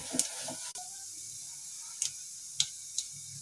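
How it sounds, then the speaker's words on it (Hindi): Cumin seeds sizzle in hot oil in a kadai, a soft steady hiss broken by a few sharp pops and crackles, heard close but fairly quiet with no voices. "ऑयल हमारा गरम हो चुका है, अब मैं इसमें ये जीरा डाल दूंगी।"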